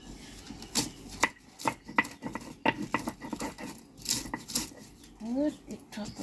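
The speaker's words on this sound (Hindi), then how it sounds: "ये पीसेंगे मसाला" Chili, garlic and ginger masala being ground by hand in a village kitchen, sounding as uneven knocks and scrapes in an irregular rhythm, close and fairly loud, with a brief voice near the end.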